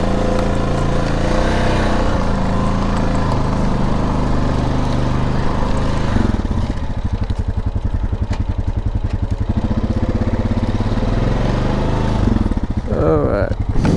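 An off-road vehicle's engine drones loud and steady while driving through sinky mud, its rumble dipping midway and then climbing again, with clattering, knocking texture throughout.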